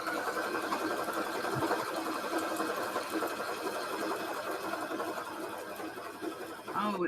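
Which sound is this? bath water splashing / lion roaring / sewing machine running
sewing machine running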